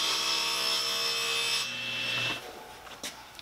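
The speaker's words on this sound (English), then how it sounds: "All right, so now let me cut that piece of MDF." A saw cutting through a piece of MDF, a steady rasping stroke that runs for over two seconds and then stops, followed by a few light knocks and handling sounds.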